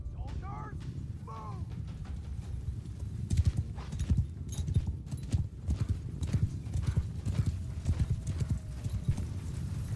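Many horses' hooves clopping and galloping across a battlefield in the video game Bannerlord, with a couple of neighs near the start and dense, thumping hoofbeats and clatter throughout, and a voice can be heard in the mix.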